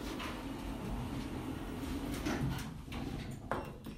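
Lift doors sliding shut in a Fareham building, a steady low rumble and mechanical whir with a faint thud near the end, close by and without voices.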